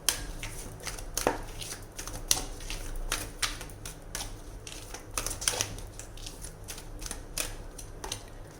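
Tarot cards are shuffled and drawn by hand in quick, uneven bursts of crisp riffling and slapping taps, soft and close, with no voice.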